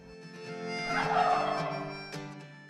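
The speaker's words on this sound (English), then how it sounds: "So I hear a faint gobble off to my right side" A wild turkey tom gobbles during a turkey hunt in a rolling, rattling call that swells and fades, heard at moderate distance without any talking.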